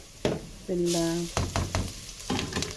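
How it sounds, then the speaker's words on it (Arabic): Chopped onions frying in oil in a pan, with a scraping stir of a spoon and sizzling bursts, briefly under a voice speaking nearby. "بالزيت بس، وهشوحها مع بعض كده لحد ما تحمر"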